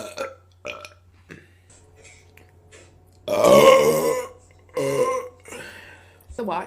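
A woman burps loudly and at length after drinking Coke, one long rumbling belch in the middle, with shorter burps and brief talk around it, close to the microphone.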